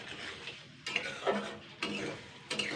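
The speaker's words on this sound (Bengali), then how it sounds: "এইবার আমি এটাকে জাস্ট 2 থেকে 3 মিনিট নেড়ে ছেড়ে নেবো" Tomato pickle with lime juice being stirred in a pan, with a few distinct scraping strokes of a spoon against the metal and a light sizzle between them, close and moderately quiet.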